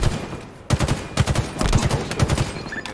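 Gunfire in a ranked video game match, rapid bursts of shots close and loud, repeated in quick clusters over a steady game background with no speech.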